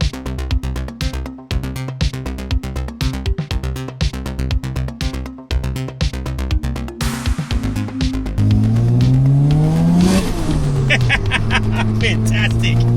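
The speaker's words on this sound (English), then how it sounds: "Going to jump in the car, go for a little drive, and just enjoy this freaking awesome machine" A single-turbo rotary Mazda RX7 runs with a choppy, rapid idle-like burble, then revs up hard and accelerates, the pitch climbing and sweeping as the engine pulls, loud and close.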